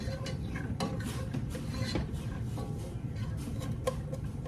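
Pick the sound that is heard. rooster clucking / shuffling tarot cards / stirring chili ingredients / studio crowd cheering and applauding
stirring chili ingredients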